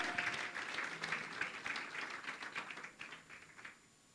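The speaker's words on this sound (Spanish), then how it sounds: "Aplaude al Rey si tú crees esa palabra" A church congregation claps during a Spanish-language sermon, a brisk crowd of hands rattling quickly and fairly softly, tapering away toward the end.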